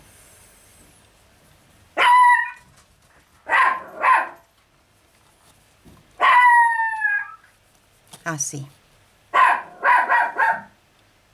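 A small dog barks in several short bursts, some yelping and drawn out, close and loud in a quiet room during a crochet lesson, with a brief spoken word between barks.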